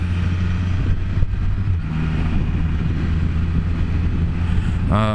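A 2020 Can-Am Spyder F3T rolls down a gravel road, its engine droning steadily up close under wind buffeting, with a brief rising whine near the end.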